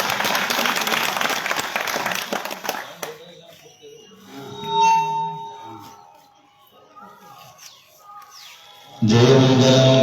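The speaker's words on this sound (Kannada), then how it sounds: "ಒಂದ್ಸಲ ಜೋರಾದ ಚಪ್ಪಾಳೆಯೊಂದಿಗೆ" A seated audience at a devotional Kannada gathering breaking into loud applause, a dense burst of clapping at the start that gives way to quieter sounds and talk, then resumes strongly at the end.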